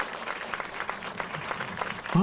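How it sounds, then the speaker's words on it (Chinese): A crowd applauds at a film premiere, brief steady clapping from many hands in a hall, with a voice cutting in at the very end. "我们一起接受大家的掌声"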